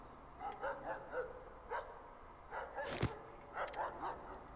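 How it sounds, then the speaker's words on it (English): A dog in the video game Pocket Mirror barks repeatedly in short rhythmic bursts, fairly faint and slightly distant, with a sharp click partway through. "Dog's barking."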